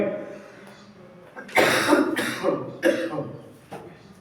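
Several harsh, close coughs in quick succession after a quiet moment, with a throat-clearing rasp at the end.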